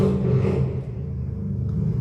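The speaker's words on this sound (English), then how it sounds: "Someone is really showing off with their car." Outside, a car engine revs hard with a deep, steady rumble that stays loud for the whole stretch and swells slightly at the start.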